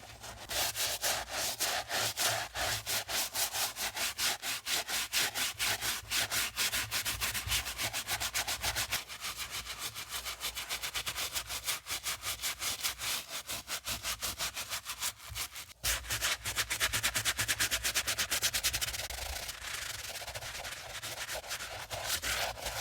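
Brush scrubbing a pebbled leather loafer with suds, a fast, continuous rhythmic scratching close by, steady and alone, with a brief pause midway.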